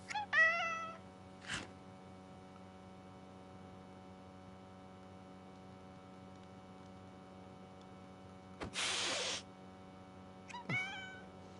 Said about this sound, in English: approach the stray cat slowly